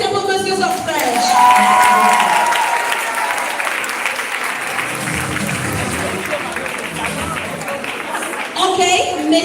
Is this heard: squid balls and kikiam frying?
no